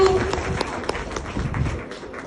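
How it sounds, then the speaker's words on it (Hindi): Scattered, moderately loud clapping from a small audience at a direct-selling motivational event, with individual claps audible rather than a dense roar. "मैं चाहती हूँ कि आप सभी लोग अपने लिए एक बार जोरदार तालियां बजाएं"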